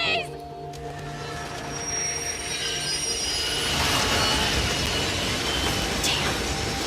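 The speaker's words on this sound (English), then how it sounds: "The train's coming!" A train rushes past in the video game Life is Strange, its wheels screeching with a steady high squeal over a swelling, loud rolling roar that builds and holds close by.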